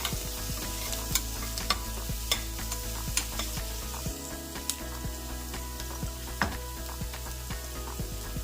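Chopped vegetables frying in oil and butter in a pan for dal khichdi: a steady, loud sizzle fills the scene, broken by frequent scraping and clinking stirs of a spoon against the pan, with no voices.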